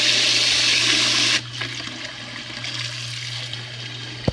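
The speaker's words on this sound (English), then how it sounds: "now we're gonna have to cool this water down with really cold water" Cold water rushes out in a loud, steady flow for over a second to cool hot water, then cuts off into faint trickling and dripping with a soft low hum beneath.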